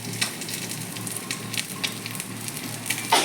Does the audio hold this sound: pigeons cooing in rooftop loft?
no